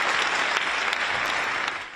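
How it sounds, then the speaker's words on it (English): Dense, steady applause from a large audience at a NATO event, greeting a speech by NATO Secretary General Mark Rutte, sustained and fairly loud for the full stretch before easing slightly at the end. "Applause too for Mark Rutte as he made a speech warning about the future"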